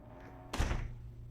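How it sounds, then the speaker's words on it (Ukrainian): A door is pushed shut in a room, giving a single solid thump at mid-clip over a low steady background hum. "Може двері закрити?"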